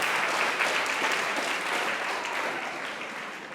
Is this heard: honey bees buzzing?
no